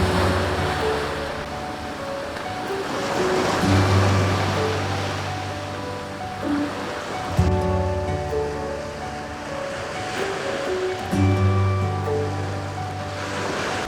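Sea waves at high tide rolling in and washing up close by at Muara Beting beach, Bekasi, loud surges rising and falling every few seconds amid wind noise.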